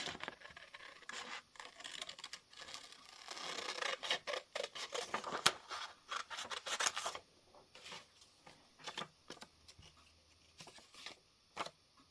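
Scissors snip through paper while cutting out a piece for a winter journal, giving a run of quiet, close, irregular crisp cuts and rustles with short pauses between them.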